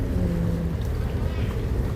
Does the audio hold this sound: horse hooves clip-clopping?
no